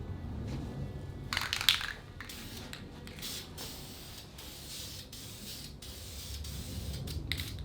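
VHT roll bar and chassis paint is sprayed onto a repaired car cowl in a steady, close hiss, with a few short pauses and louder bursts.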